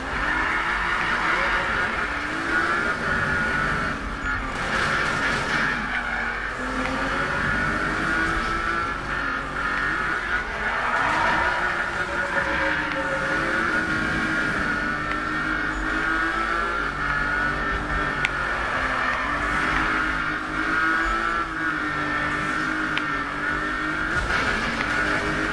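A car engine in Need for Speed 2015 revs steadily and loudly for the whole stretch, its pitch rising and falling as the throttle is worked, with no talking.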